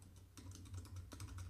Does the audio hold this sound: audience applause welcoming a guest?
no